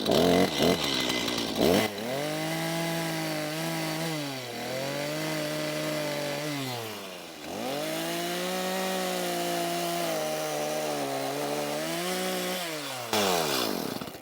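Chainsaw cutting through wood for a garden room base, the engine revving hard and bogging down in long strained passes with pitch dips as the chain bites, loud and close, with bursts of revving at the start and end.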